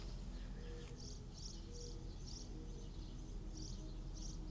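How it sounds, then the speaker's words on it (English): Faint birds chirping in short bursts in the distance over a steady low background hum, with soft insect-like trilling. "You can hear it, the birds chirping in the background."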